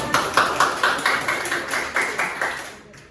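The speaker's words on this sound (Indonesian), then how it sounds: "Tepuk tangan teman-teman semua." Classmates in a micro-teaching classroom clap together in a fast, even rhythm, about a dozen crisp, close claps that fade out at the end.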